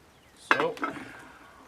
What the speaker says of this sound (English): bolt goes home. Spring drops in place. Dust cover goes on.